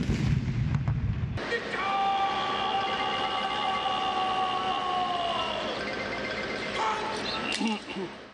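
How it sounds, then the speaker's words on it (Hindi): A deep boom from a 21-gun artillery salute rings out, followed by a long, wailing siren-like tone that holds steady and fades, with a faint voice at the end. "जिसके बाद 21 तोपों की सलामी दी गई।"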